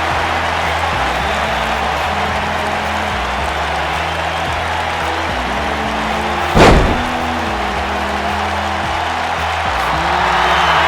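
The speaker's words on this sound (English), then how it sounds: "This Vegas crowd really is this loud." Roaring arena crowd noise in the wrestling video game WCW 2K at a Las Vegas event, a loud continuous wall of cheering with a steady tonal hum beneath and one sharp slam-like impact partway through.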